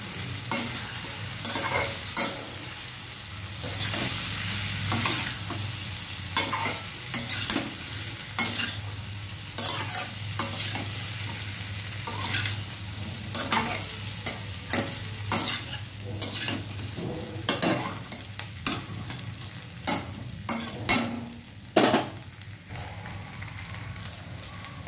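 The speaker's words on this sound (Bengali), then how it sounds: "ভেজে রাখা যে চিকেনটা ছিল সেটা কিন্তু দিয়ে দেবো, দিয়ে কিন্তু খুব ভালো করে নাড়াবো" Fried chicken pieces being stirred in a pan for chilli chicken, with repeated scraping and clattering strokes over a steady soft sizzle that runs throughout, close and clear with no talking.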